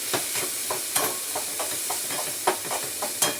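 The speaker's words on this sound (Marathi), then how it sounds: "आता इथे जराशी हळद घालते आणि परतून घेते चांगली." Cowpea vegetable with turmeric is sautéed in a pan, a soft steady sizzle broken by repeated scraping stirs of a spoon against the pan, close and fairly clear, with no voices.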